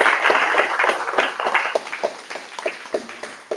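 Audience at a poetry reading in Galveston breaks into steady applause, many hands clapping together in a dense, continuous patter that gradually thins out, with a few louder individual claps standing out.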